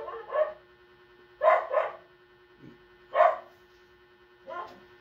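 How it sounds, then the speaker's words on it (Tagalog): A dog barks in short bursts, a single yap followed by quick doubled barks and a couple more spaced out, fairly close and alone against a quiet indoor room with a faint steady hum. "Sumasabay yung aso ko."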